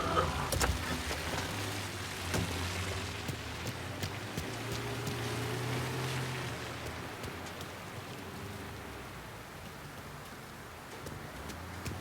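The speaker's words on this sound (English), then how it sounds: "although the rain is heavy at this moment" Heavy rain pours steadily in Mafia Definitive Edition, a dense, even hiss of downpour close around the listener that fades slightly toward the end, with a few faint low rumbles underneath.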